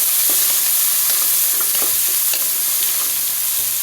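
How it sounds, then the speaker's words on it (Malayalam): Onions fry in oil in a pan, a loud continuous sizzle with several scraping stirs scattered through it and no voices. "ഞാൻ ദാ ചട്ടി വെച്ച് എണ്ണ ഒഴിച്ചു. ഇതിലേക്ക് ദാ ഉള്ളിട്ടിട്ടുണ്ട്."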